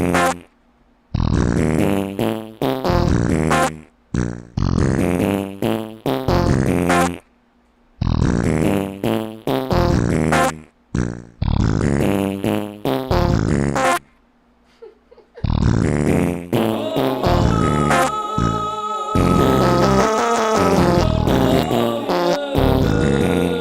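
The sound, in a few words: fart sound effects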